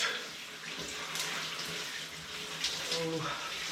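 Water runs steadily from a tap or shower while curly hair is rinsed after clarifying, a continuous broad hiss with faint splashing throughout.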